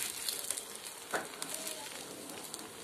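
Rice ghavan sizzling in a pan on the stove, a soft steady frying hiss throughout, with one brief scrape of the pan midway and no voices.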